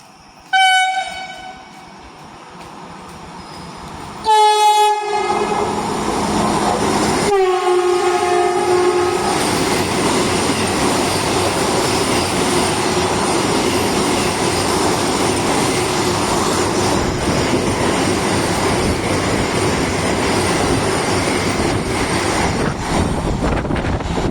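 Trains including the Karnavati Express and a Vande Bharat during monsoon rain, with loud horn blasts near the start followed by a long, heavy, continuous rumble and clatter of coaches passing close by.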